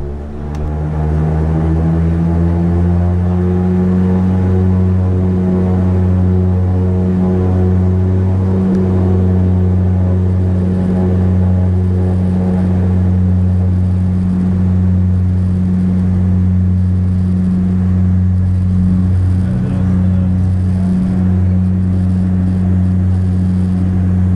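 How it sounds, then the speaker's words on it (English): Steady engine drone inside a commercial airliner on a flight from Carlisle to Dublin, a loud continuous hum with strong low tones that holds constant throughout, heard from within the cabin with no talk. "the engines powered up and took us on our way"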